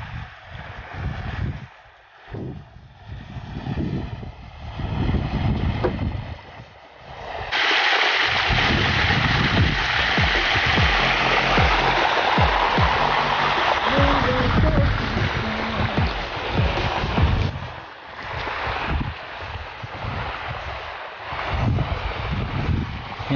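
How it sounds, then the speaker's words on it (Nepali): Flowing water in a stream beside a garden, a steady broad rush with wind buffeting the microphone, louder in the middle stretch and fading slightly near the end. "यहाँ सर पानी बगिरहेको छ।"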